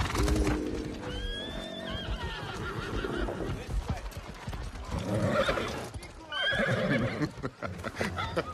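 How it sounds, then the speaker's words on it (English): A horse neighs and whinnies several times with hooves clip-clopping beneath, in the middle of an animated action scene, the calls rising loud and close between bursts of other film sound. "Magnificent horse."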